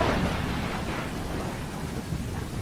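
A heavy thunderstorm in a forest: dense, steady rain hiss with a deep rumbling roll of thunder, loud and continuous throughout, no voices.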